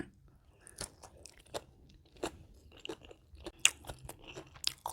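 Close-up chewing of a spicy salmon salad with pork sausage and fermented fish sauce, with repeated crunchy bites and wet mastication clicks in an irregular rhythm, no talking.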